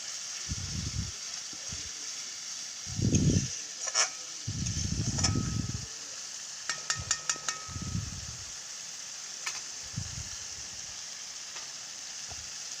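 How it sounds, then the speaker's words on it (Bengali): Masala with cumin paste fries in oil for a Bengali fish curry, giving a steady sizzle broken by louder bursts of crackle and stirring scrapes. "জিরে বাটা দিয়ে আরও একবার মশলাটাকে কষিয়ে নেব খুব সুন্দরভাবে"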